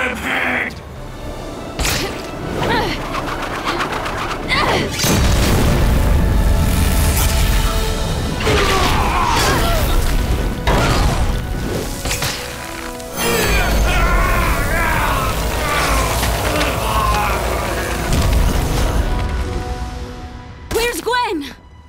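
A loud, booming blast in an animated Spider-Man cartoon episode, with crashing, rumbling debris, followed by heavy thuds and whooshing noise amid chaotic action sounds.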